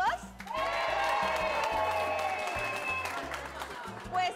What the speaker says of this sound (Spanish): la pareja número dos tiene un poquito más de aplauso